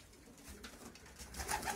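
Racing pigeons coo softly at a loft ahead of a long-distance training release from Focșani, a low murmuring rumble over faint background noise that swells slightly toward the end.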